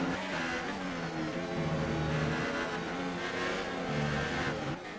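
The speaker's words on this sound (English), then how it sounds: "Listen for the engine, he accelerated into me." A Formula 1 car engine in the F1 2018 video game, at the British Grand Prix, revs and accelerates with rising and falling whine, tones climbing through gear changes, loud and close, with faint tire noise.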